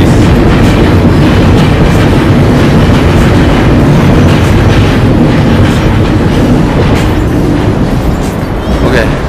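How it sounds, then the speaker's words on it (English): An MRT train on the elevated track at Ang Mo Kio, Singapore, thunders past overhead, a loud, dense, continuous rumble with rhythmic clatter, heard from below the track. "That was the train."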